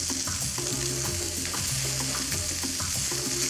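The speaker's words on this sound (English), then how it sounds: "Ooh, look at that great sear." Meat sears in a hot pan, giving a continuous, fairly quiet bright sizzle with small crackles and faint stirring or scraping underneath.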